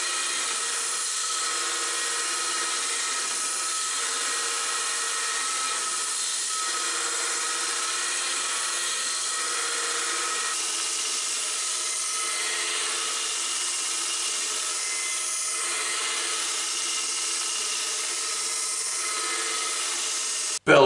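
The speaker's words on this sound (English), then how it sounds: "belt sander, really multifunctional machine, right?" Belt sander grinding flat steel bar, a continuous loud abrasive hiss with a steady motor drone and slight rhythmic variations, running alone without speech until an abrupt stop.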